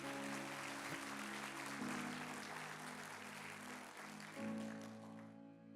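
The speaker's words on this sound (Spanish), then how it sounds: "Dale un aplauso a Dios bien fuerte eso" A church congregation applauds steadily throughout, a dense wash of clapping over sustained music notes, fading slightly at the very end.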